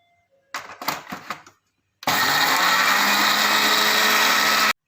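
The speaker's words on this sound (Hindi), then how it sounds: "सबसे पहले हम इसको ब्लेंड करते हैं।" After some clattering of the jar and lid, an electric blender whirs on loud and steady, mixing chocolate cake batter in a constant high-pitched drone for nearly three seconds before cutting off.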